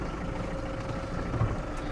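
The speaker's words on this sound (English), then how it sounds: "A real manly engine noise comes out of this" A small utility cab vehicle's engine runs on a farm during hay work, a low, steady, gruff rumble heard alone and close for a couple of seconds.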